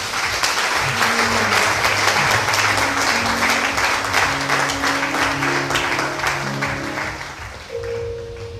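A church congregation claps loudly in sustained applause that rings out across the room, with musical tones underneath, then gradually thins out and fades near the end.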